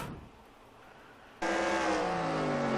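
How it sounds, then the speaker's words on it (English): Race car engines in a racing video game at Brands Hatch, a sudden loud, steady roar cutting in midway and rising in pitch as the cars close in, following a quieter stretch of low rumble. "I hear cars starting to catch up."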